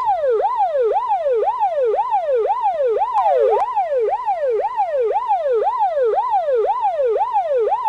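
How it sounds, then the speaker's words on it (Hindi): A loud wailing ambulance siren sweeps up and down in a fast, steady cycle, close and continuous throughout as the ambulance drives away. "और यहाँ पर एम्बुलेंस की गाड़ी जाने लगती है"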